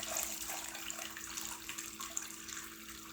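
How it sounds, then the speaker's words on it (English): Homemade chicken stock pours through a kitchen strainer in a continuous, soft splashing trickle, heard alone and fairly quiet. "that rest of that yummy stock will just go right through your strainer"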